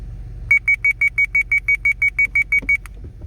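Parking sensor warning beeps in a 2013 BMW X3, a rapid, evenly spaced run of about fourteen loud, clean electronic tones over a low cabin rumble, ending abruptly.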